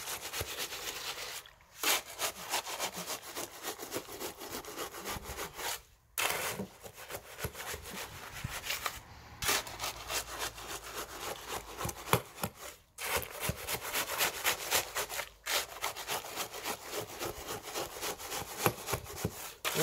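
Concrete mixed by hand without a mixer gives repeated gritty scraping and rubbing strokes. The strokes come in bursts broken by brief pauses, close and moderately loud, with no talking.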